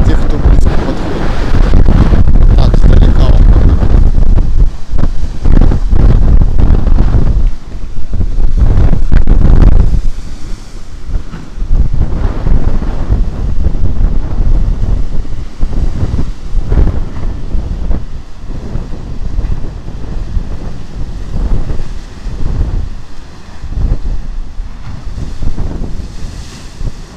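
Strong sea waves crash and roar against the shore, loud and close with heavy wind buffeting the microphone and surging swells rising and falling throughout.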